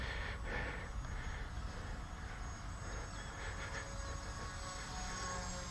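A light, cheap foam RC plane with a tiny 1812 electric motor flies outdoors, its faint, steady motor whine and drone held at a distance under a broad wash of wind and background noise.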